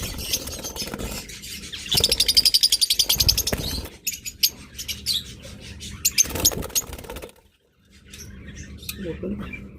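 A pair of pet birds offered for sale chirps in quick, bright bursts close by, with the calls dense and busy early on and then trailing into scattered, fainter tweets after a short lull, all mixed with someone talking.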